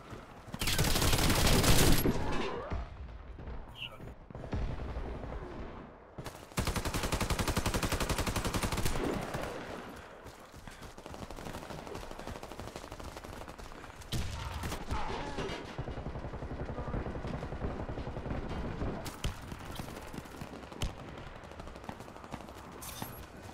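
Gunfire in the video game Chernobyl: loud rapid automatic bursts and fusillades, close and harsh, broken by short pauses and followed by quieter sustained shooting.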